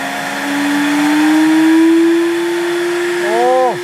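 A 2250 W Miyako commercial blender and juicer runs loud and steady with a high whine, then winds down with a falling pitch as the motor slows near the end.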